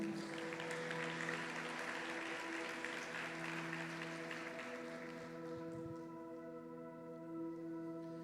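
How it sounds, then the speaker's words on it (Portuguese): A church congregation applauds, clapping that swells at first and then thins out and fades under a sustained musical tone from keyboard or organ. "Pode aplaudir ao Senhor?"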